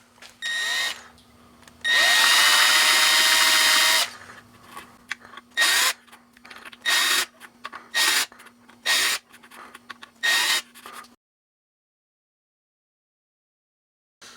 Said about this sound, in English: you just take a big bit, real careful not to drill through it